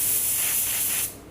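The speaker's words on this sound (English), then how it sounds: "So let's clean this out and we'll spray with it." Garage paint spray gun loaded for base and clear coat gives a loud, steady burst of airy hiss that cuts off sharply after about a second, leaving quiet.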